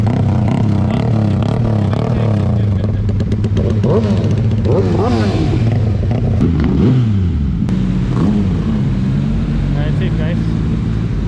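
A Yamaha XSR 155 with an Orion aftermarket exhaust revs loudly at a roadside gas station on a highway, engine rising and falling through several blips while people talk nearby.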